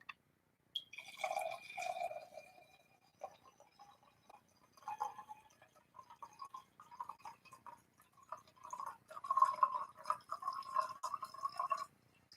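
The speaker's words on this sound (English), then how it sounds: "I'm going to take this moment to refill my wine glass." Wine poured from a bottle to refill a glass: faint, quiet glugs and trickling splashes in uneven bursts, growing fuller toward the end, close by with no talk over them.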